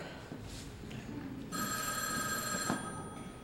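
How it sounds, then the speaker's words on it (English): A telephone bell rings during a 1994 school stage play, a bright trilling ring that starts about midway and continues steadily over faint room noise and stage movement. "That's the phone, Ken."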